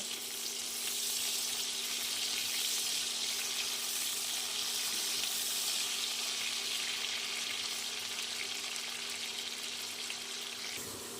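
Cut potatoes with a little salt fry on a low flame in a covered pan, giving an even, continuous sizzle close by that holds steady for over ten seconds, with a faint hum beneath and no talk.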